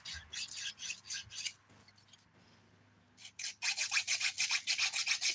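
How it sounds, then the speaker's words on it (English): A fingernail is filed with the 180 grit side of a 100/180 nail file, close rhythmic back-and-forth rasping strokes in two bursts separated by a short quiet pause, with no talking. "I'm using a 101 by 180 grit file, and I'm using the 180 grit side."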